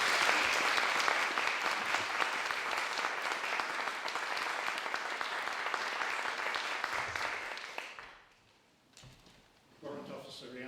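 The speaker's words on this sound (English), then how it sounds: "perhaps we can have a round of applause" Sustained round of applause from an audience at a King's Award ceremony for Home Start Tamworth, steady for about eight seconds before fading out, followed by quiet and a few small bumps and murmurs.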